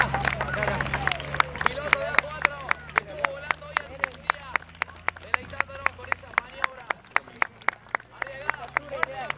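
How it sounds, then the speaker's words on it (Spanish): A crowd at an aeroclub event applauds steadily, with dozens of sharp, fairly even claps in a lively rhythm over low crowd murmur and a faint hum that fades partway through. "Fuerte el aplauso a Sergio Palacio, alias El Daga."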